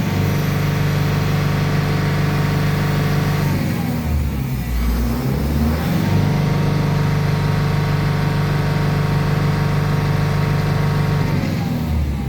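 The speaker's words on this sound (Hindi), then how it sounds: "स्टार्ट करने के बाद गाड़ी का आरपीएम ठीक ठाक जा रहा" A Tata 1012 BS6 diesel truck, which has a low-pickup fault and a DEF quality error code, runs steadily just after starting. It holds a loud, close, continuous idle with a deep throbbing drone and a slight dip midway, and no one speaks.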